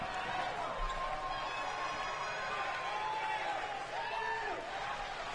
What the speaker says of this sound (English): Crowd's going crazy in the wasteland.